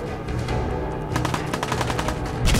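Rapid gunfire from a weapon in Fallout 4, a dense burst of sharp repeated shots stacked over a steady game score, getting louder toward the end.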